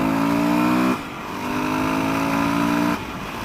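A dual-sport motorcycle, a DRZ400SM or WR450 on 21-inch wheels, accelerates along a street with a steady engine drone that shifts pitch twice as it climbs through gears, close and loud with no talk.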